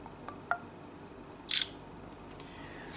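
An HTC One Mini smartphone captures a photo, giving one brief crisp shutter click in a quiet room, preceded by a couple of faint taps.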